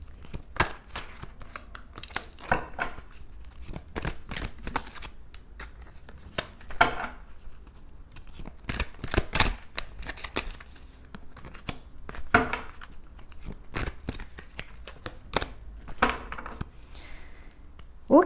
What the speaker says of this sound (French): je prends toutes les cartes